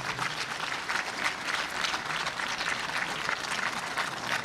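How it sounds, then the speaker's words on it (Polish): Students receive warm applause at a book launch event, a steady even wash of many people clapping at moderate volume, with no talking over it. "Ogromne brawa i ogromne podziękowanie dla wszystkich uczniów."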